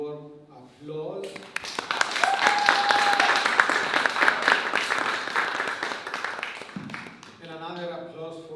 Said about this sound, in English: I think we can give everybody a very warm applause